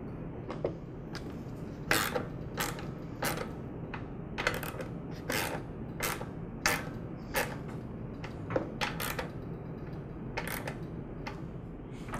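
Small parts of a Honda carburetor being handled during reinstallation of two new gaskets and the air filter assembly: a run of sharp, close clicks and light plastic and metal taps in an irregular rhythm, with no talking.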